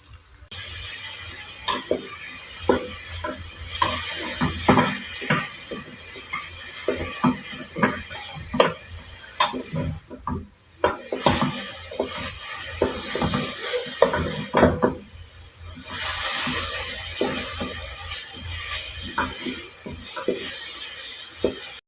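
Kale cooking in a pot, with a steady hiss and sizzle broken by frequent metal clatter of a utensil against the pot, close by and with no talking.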